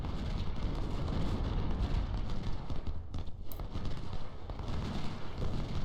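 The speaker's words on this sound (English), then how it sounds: "Oh, it must be artillery fire." Artillery fire in the video game Ultimate General: Civil War, a dense, continuous rumble of distant cannon and gunfire blurred together into a steady battle din with no clear separate shots.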